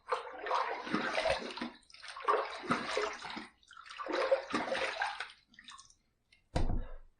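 Running water rinses a slant razor after a shave, close splashing in three or four bursts of a second or so each, with a short sharp knock at the end.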